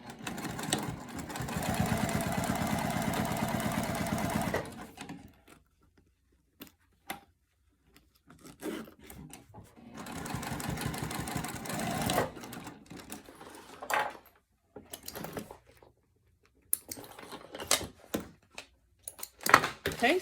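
A sewing machine stitches a wallet panel for the Triskele wallet. It gives close, rapid mechanical whirring in bursts of several seconds, separated by quiet pauses and short stop-start runs.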